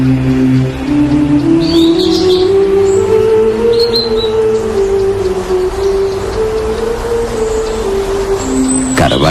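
Birds chirp in short, high bursts within a forest of oaks, birches, hazels and hollies by the Eume gorges, heard faintly over a loud, steady low drone that dominates throughout.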